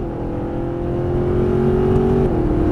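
A Mercedes-Benz SLS AMG engine pulls hard and loud close up, its tone climbing steadily under full throttle before dropping abruptly at an upshift, then carrying on without any talk.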